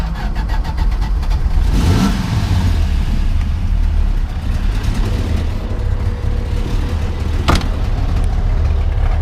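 A 1969 Dodge Dart Swinger with a 225 engine idles through its mufflers, a steady loud rumble with a brief rise near the start and a sharp click later on.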